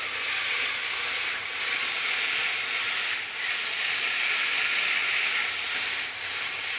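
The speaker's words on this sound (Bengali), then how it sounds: "তেল ছিটছে, এই যে ভাজা ভাজা করছে" Spices with panch phoron spattering and frying in hot oil in a Bengali kitchen, giving a steady, loud, broadband hiss and crackle that continues evenly with no talking.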